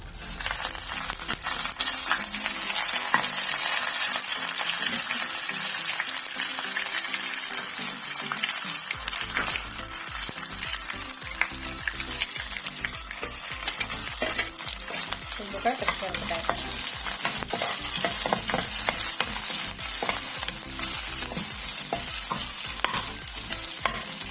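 Continuous close sizzling of tempering seeds, dried red chillies and curry leaves frying in a spoonful of hot oil, with a spoon scraping and stirring the pan throughout.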